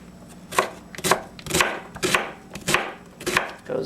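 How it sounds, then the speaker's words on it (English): A knife chops through an onion on a cutting board in seven crisp, evenly spaced strokes about half a second apart, close and clear with no voices. "when you cut an onion the way I'm cutting it"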